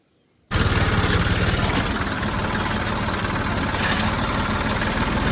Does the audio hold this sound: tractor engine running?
yes